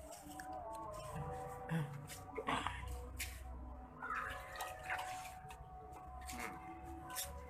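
Water sloshes and drips as a screen-printing screen is soaked before spraying, a close, continuous watery wash with small splashes and trickles throughout.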